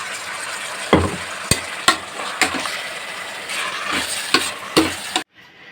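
Chicken and ground spice paste sizzle and fry in a hot pot while a utensil scrapes and knocks against it several times, ending abruptly in near silence.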